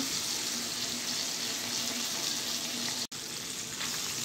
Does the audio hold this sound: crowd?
no